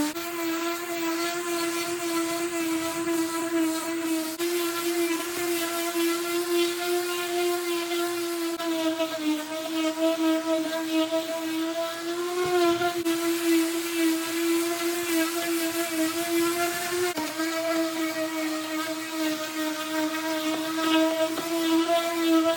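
A power sander works gel coat on the plywood body of an RV camper trailer, giving a steady, close, high-pitched motor whine with a constant tone that holds for the whole stretch, unbroken and alone.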